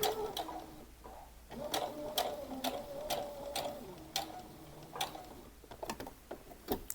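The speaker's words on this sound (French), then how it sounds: "Et là je vais faire une surpiqûre." A sewing machine topstitches a summer dress, its needle running in short bursts with brief pauses and small clicks between runs, close and moderately loud with no talk.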